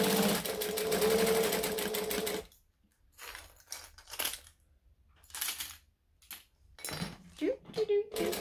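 A sewing machine stitching along the bottom of a laptop case runs as a fast, steady, close mechanical whir for about two and a half seconds, then stops while a person talks.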